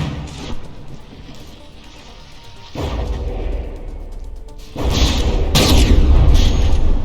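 Battleships trade fire in a From the Depths tournament battle between Megadozer and Extermination, and a turret takes a hit: deep rumbling booms and crashes rise in two surges, the second heavier and louder, with no speech.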